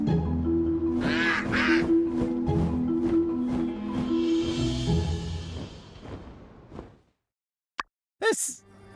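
A cartoonish duck quacks repeatedly in quick bursts in the My Time at Sandrock video game, loud and close over game music and whooshes, fading out before a couple of sharp sounds near the end.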